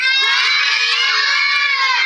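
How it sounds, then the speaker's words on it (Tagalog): Loud, sustained group shouting from many children at a seventh birthday party, a continuous high-pitched scream held for about two seconds without a break. "Sisigaw natin ng malakas ha."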